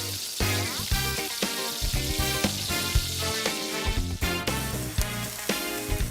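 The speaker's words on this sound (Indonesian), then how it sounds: "masukin terinya ke minyak untuk proses penggorengan guys" Small anchovies (teri) fry in hot oil, giving a steady, loud sizzle scattered with sharp pops and crackles throughout, close by and with no talking.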